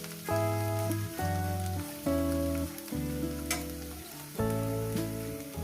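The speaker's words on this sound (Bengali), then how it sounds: "আর শাকটা তখন ভাজা হচ্ছে" Spinach frying in a pan, a close steady sizzle with crackling, while a sustained background tone swells and fades across it; no talk.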